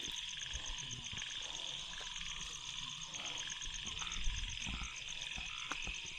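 Frogs croak in a forest at night after rain, a dense continuous chorus of pulsing calls mixed with shrill insects, with occasional nearer rustles and knocks.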